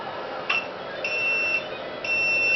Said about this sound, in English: The alarm is annoying.